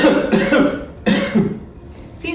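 A patient coughs forcefully several times in short, close bursts, with a pause in between, during a clinical swallowing exercise.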